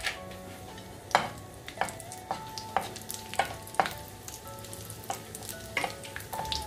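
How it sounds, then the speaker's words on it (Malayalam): Cashew nuts sizzle in hot ghee in a pan while a spoon stirs them, giving about a dozen sharp metallic scrapes and clinks over a steady frying hiss, with no voices. "ചൂടായ നെയ്യിലേക്ക് നമുക്ക് കുറച്ച് കാഷ്യൂ നട്ട്സ് ഇട്ട് കൊടുക്കാം"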